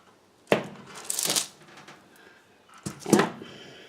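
A handmade gardener's soap bar scented with tangerine and cedarwood is cut in half, giving two close, distinct scraping, crunching cuts about two seconds apart with quiet pauses between.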